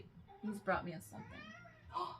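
A pet cat meows indoors, giving a couple of drawn-out, wavering meows close by while someone talks over them.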